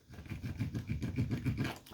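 A tracing wheel rolled across chalky paper to perforate it, a close, rhythmic rasping and clicking texture in quick repeated pulses, soft and steady.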